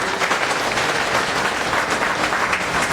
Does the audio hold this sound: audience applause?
yes